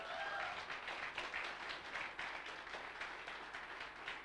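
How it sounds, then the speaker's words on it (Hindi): Audience applause at a speech event in a hall, steady dense clapping from a crowd, somewhat distant and moderately quiet, with no talk over it. "आप खड़े हो जाइए और जोर से तालियां"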